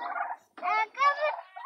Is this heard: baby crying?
no